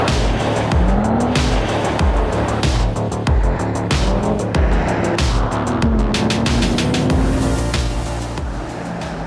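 An Audi RS Q3 (2020) with quattro all-wheel drive is thrashed across snow and ice, its engine revving hard and tires squealing through long slides, loud and close throughout with no talking.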